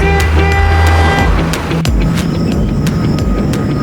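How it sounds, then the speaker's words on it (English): A large truck's engine rumbles up close, with hissing, mechanical clanks and a sharp bang midway through the steady roar. "G for garbage truck."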